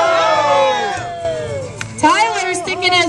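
A crowd cheers and shouts at a throwing competition at the West Virginia State Fair, voices rising and falling in bursts with one louder swell partway through, under and around close talk.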